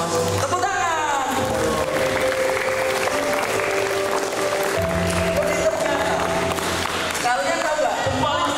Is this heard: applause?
yes